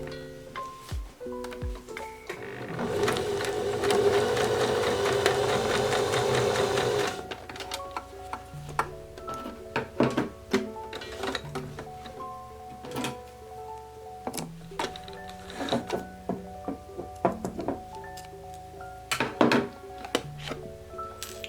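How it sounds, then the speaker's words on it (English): A sewing machine runs a stitch across a dress bodice, a steady loud whir for several seconds, then gives way to scattered clicks, taps and handling noises of fabric and machine parts. "So run my stitch. I'm going to be running my stitch across."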